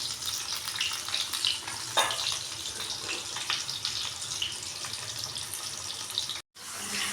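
Bitter gourd fries slowly on low heat for karela masala, a steady, even hiss of oil with a few small crackles and a brief silent gap near the end.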